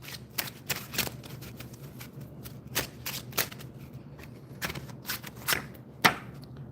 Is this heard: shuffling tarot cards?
yes